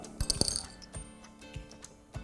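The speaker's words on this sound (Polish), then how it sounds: "Na początku musimy ją tą zapalniczkę rozmontować." A plastic lighter is taken apart by hand, giving faint scattered clicks and small metallic clinks and rattles at irregular intervals.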